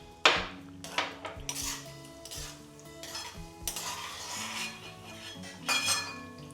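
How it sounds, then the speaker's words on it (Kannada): Cashews fry in oil in a pan while a metal spoon stirs them, giving repeated close clinks and scrapes against the pan over a soft sizzle. "ಈಗ ಈ ಗೋಡಂಬಿ ಇದೆಯಲ್ಲ, ಇದನ್ನ ಫಸ್ಟ್ ಫ್ರೈ ಮಾಡಿ ತೆಗೆದಿಟ್ಕೊಂಡ್ಬಿಡ್ಬೇಕು."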